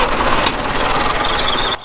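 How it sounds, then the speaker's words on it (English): A tractor engine turning over and running after being started by shorting the starter with a key, a steady, loud rough mechanical churn with a faint high whine, close by and without voices. "So, let me start this tractor."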